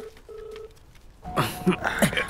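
A mobile phone rings during a film scene, its tonal electronic ringtone playing faintly before being swamped by louder, busier sound in the second half.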